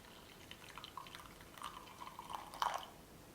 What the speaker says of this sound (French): on va mettre l'eau chaude